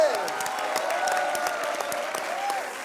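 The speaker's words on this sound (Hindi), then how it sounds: "जोरदार तालियां इनके लिए।" A studio audience on a Hindi TV comedy show applauds loudly for two guests, continuous dense clapping with a faint tonal music line beneath it.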